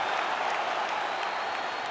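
Arena crowd cheering and applauding at the finish of a full 25-minute fight in EA Sports UFC 5, Mikuru Asakura vs. Masanori Kanehara; a steady, dense roar of clapping and cheers, loud and continuous with no pauses.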